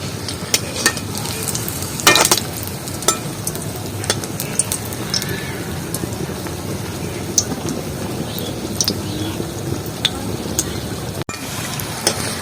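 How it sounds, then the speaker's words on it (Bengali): Palm fruit malpua deep-fry in hot oil with a continuous loud bubbling sizzle and scattered sharp pops and clinks as the fritters are turned. "তালের মালপোয়াটা একদম কালার করে নেবো ভেজে লাল মতো করে নেবো উল্টে পাল্টে"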